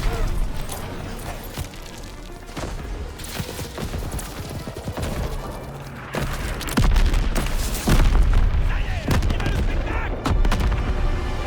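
Sustained gunfire and heavy booms from the World War II shooter Call of Duty WWII, machine guns firing loud and continuous with artillery-like blasts growing denser and louder in the second half.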